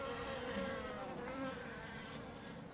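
Honey bees at a hive making a dense, steady buzz with overlapping wingbeat tones that waver as individual bees pass near the microphone, faint and continuous with no talking.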